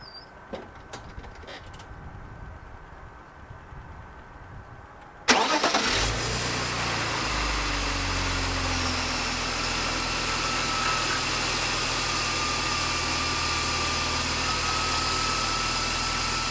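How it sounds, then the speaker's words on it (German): A BMW E46 M54 inline-six engine cranks and catches after a few seconds of quiet, then settles into a steady, close idle that runs on alone during cooling-system filling and bleeding. "jetzt starten wir mal den Motor und gucken mal, was passiert"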